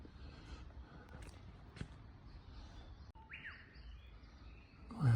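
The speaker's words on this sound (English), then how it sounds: "Sound of the birds." Birds sing in the misty mountains above Chichibu, a few faint, scattered chirps and tweets over quiet outdoor ambience and soft footsteps.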